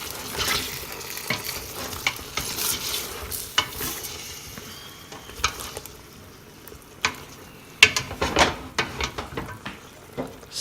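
Beef broth deglazes a hot pan while a utensil stirs, giving a soft background sizzle broken by irregular scraping and clinking strokes against the pan over about ten seconds, close and moderately loud.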